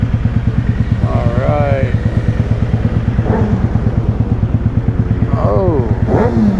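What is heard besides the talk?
motorcycle riding off in first gear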